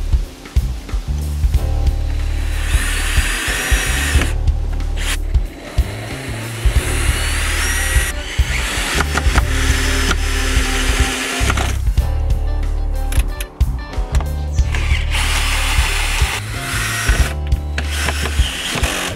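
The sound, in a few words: power drill driving screws into a wooden garden gate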